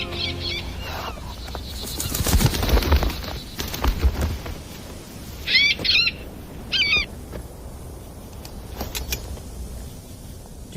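A bird calls in a few short, bright bursts spaced several seconds apart, heard between rustling and movement noises, with faint low background sound throughout.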